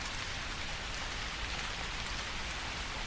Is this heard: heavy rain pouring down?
yes